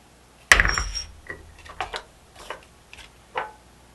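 A hammer strikes an awl once with a sharp metallic crack to punch a hole in polymer clay, followed by a few lighter taps and clicks of tools being handled.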